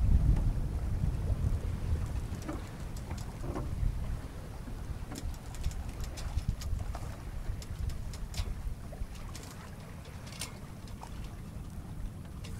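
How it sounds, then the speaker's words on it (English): A 1973 Catalina 27 sailboat under sail, with steady wind rush and low rumbling water against the hull, plus occasional faint creaks and ticks, with no talk. "Boat sails really wonderfully."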